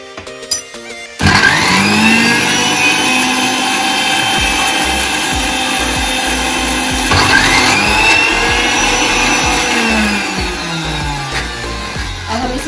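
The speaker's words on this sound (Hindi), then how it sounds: "थोड़ा सा और मिक्सी को चलाएंगे" A mixer grinder grinding red chilli garlic chutney with a little water starts abruptly and runs loudly and steadily with a high whirring whine that dips and rises as the contents churn.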